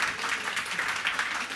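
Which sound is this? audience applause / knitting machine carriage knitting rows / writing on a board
audience applause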